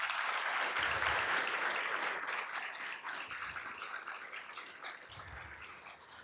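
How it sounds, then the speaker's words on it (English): An award luncheon audience honoring a newspaper's advertising sales staff breaks into sustained applause, dense clapping from a large crowd that tapers slightly toward the end. "Let's give these folks a big round of applause."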